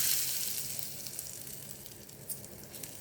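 Urad dal sizzles in hot oil in a pan while being fried until golden for pirandai thuvaiyal, a steady close crackle that slowly eases, with no talking.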